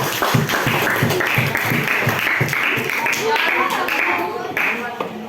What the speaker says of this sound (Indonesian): kita beri tepuk tangan pada kelompok yang berikut